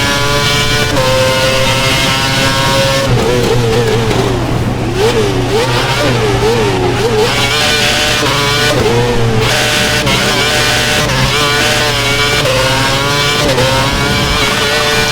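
A Formula 1 car in the F1 2011 video game at the Australian Grand Prix on worn tyres races and slides through corners, a loud continuous high engine whine rising and falling with gear changes and wavering revs.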